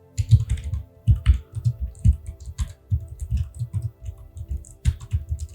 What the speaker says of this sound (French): Si vous voulez entendre le son des touches